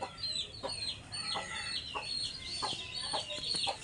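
A brooding hen sitting on fourteen eggs gives soft, repeated low clucks at steady intervals, faint and close amid quiet farmyard background.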